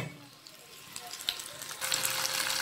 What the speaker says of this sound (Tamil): இப்போ இதில் வந்து தக்காளியை சேர்த்துட்டு நல்லா இதை வதக்கிக்கிறேன்.